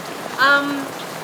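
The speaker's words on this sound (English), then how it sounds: "it literally started raining as soon as we walked out of the restaurant." Steady rain falls outdoors at EPCOT in Walt Disney World, Florida, as a soft, even hiss throughout, with a brief tonal, voice-like sound rising over it partway through.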